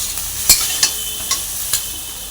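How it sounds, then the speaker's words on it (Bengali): Okra fries lightly in a pan, a steady sizzle broken by four sharp spatula clacks against the metal. "এরকম হালকা করে ভেজে নেবে"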